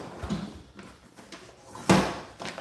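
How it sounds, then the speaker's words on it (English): A drawer slides and knocks in a cluttered workshop, with a few soft scrapes and bumps followed by a sharper closing thud near the end, close and fairly quiet. "Let me just check one more drawer."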